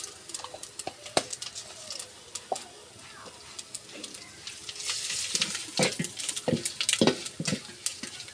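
Panch phoron, the five-spice seed mix, hits hot oil and crackles with sharp, scattered pops that grow denser and louder over a soft sizzle, with some speech in the background.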